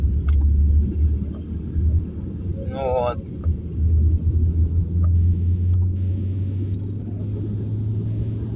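Heavy truck driving past outdoors, a loud low rumbling engine drone that holds steady across the whole stretch, with someone speaking briefly over it.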